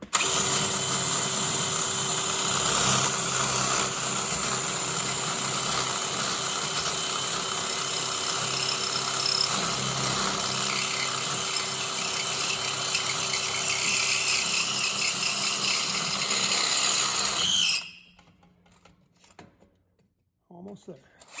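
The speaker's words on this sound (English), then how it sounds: "We're going to drill a hole right through it." A power drill with a dull bit bores a hole through part of a Smart Fortwo 451, whining and grinding loudly for about seventeen seconds before stopping abruptly, leaving faint handling sounds.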